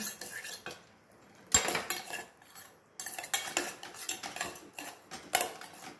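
A spoon stirs and mixes a neem flower Ugadi dish in a bowl, with irregular clinking and scraping of metal on the dish, close and moderately loud, with brief pauses.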